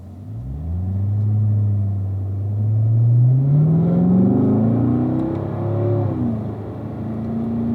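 Corvette accelerating on a racetrack at Ron Fellows' driving school, the engine note rising loudly through the revs as it pulls away close by, then easing and rising again.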